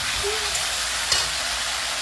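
Ground spice paste fries in hot oil in a pan, making a continuous close sizzling hiss for about two seconds, with no talking.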